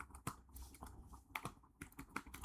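Fast bursts of keystrokes on a computer keyboard, uneven clatter with a few sharper taps, close and fairly quiet with no talk.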